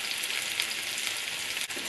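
Liver frying undisturbed in a pan, making a moderate, even sizzle that holds steady throughout, with a single small click near the end and no voices.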